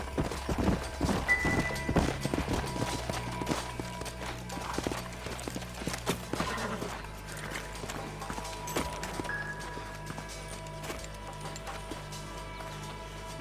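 Horse hooves clip-clop steadily and fairly close in the Red Dead Redemption western video game, with background ambience and an occasional tonal hum under the rhythmic hoofbeats.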